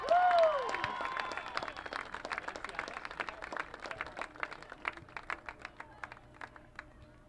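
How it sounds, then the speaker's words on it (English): A crowd at a college soccer senior-day ceremony, Ohio Bobcats against the EMU Eagles, breaks into applause for a graduating player, with a short whistle or cheer at the start. The clapping is steady and thins into scattered, separate claps. "let's give it up for number 25"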